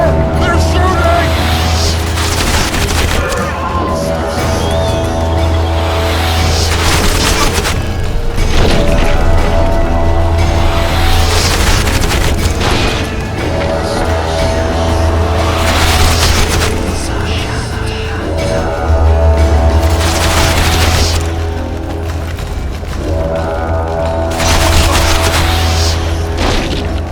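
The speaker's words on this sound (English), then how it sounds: "Take cover! They're shooting!" Combat in The Witcher 2: Assassins of Kings, with repeated heavy booms and crashes at regular intervals, mechanical clanks and a steady low drone underneath, loud and close throughout, with voices shouting.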